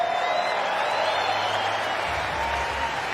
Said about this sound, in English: Would you please give both of these champion players one more round of applause?